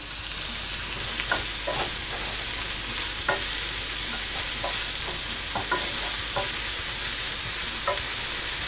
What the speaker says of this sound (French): Ensuite je vais faire dorer mes petits oignons nouveaux